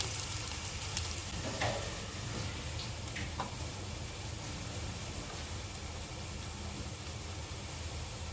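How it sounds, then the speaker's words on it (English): Sliced onions fry in a pot that held mutton for khabsa, making an even, hissing sizzle that stays steady throughout, with a few faint clinks near the start. "In the same pot, we are going to fry the onions now."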